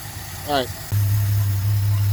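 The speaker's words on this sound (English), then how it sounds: "I got her idling in gear right now in drive" A steady low engine rumble from a car with dual Holley 1920 carburetors, idling in drive, settles in after a brief whistle-like tone, holding an even idle to the end.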